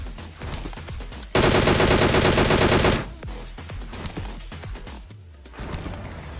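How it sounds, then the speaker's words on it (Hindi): Sustained automatic gunfire from a player firing in PUBG Mobile near an airdrop, a dense rapid burst lasting under two seconds, loud and close, amid quieter in-game shots and background sounds. "दूसरा बंदा भाई जो कि एयर ड्रॉप लूटने आया था, वो मेरे ऊपर फायर देता है"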